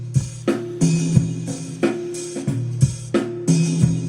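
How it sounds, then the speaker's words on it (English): Multi-output drum kit built in an EXS24 sampler plays a recorded drum track: punchy kicks and snares with bright cymbal hits in a steady, loud groove, heard alone. "so the whole drum track sounds like that"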